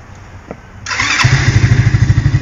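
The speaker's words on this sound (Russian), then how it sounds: "в этом году прям с полпинка завелся" A motorcycle engine fires up on the first kick: a quiet thump and kick, then a sudden catch into a loud, close, rhythmic chugging idle that keeps pulsing steadily to the end.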